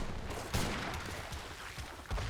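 Heavy cannon fire in the real-time strategy game Age of Empires III, with a Napoleon-revolt heavy cannon hitting enemy units: a loud blast near the start and another near the end, separated by rumbling battle noise.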